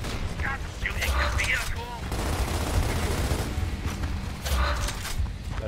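Gears of War combat: continuous rattling gunfire with rapid bursts and metallic mechanism sounds, fairly loud and up close, while voices talk over part of the shooting.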